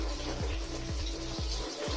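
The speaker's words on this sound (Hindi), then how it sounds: "तो अब इसको ऑन करते हैं नल को" A tap runs into a water balloon, a steady gush of water with a rhythmic low gurgling pulse as the balloon fills, close and fairly quiet.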